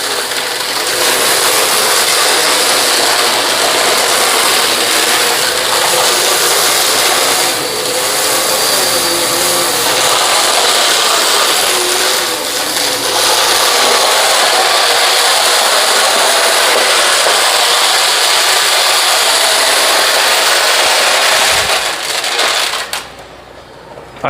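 A Dirt Devil or Hoover vacuum cleaner running over pile carpet strewn with raked-in dirt, a loud, steady broadband roar throughout that cuts off abruptly at the very end.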